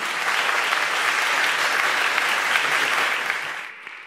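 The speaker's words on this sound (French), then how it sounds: "Public, on peut quand même applaudir Hassan Hayat." Dense, steady applause from a large television studio audience, loud and continuous, fading out abruptly near the end.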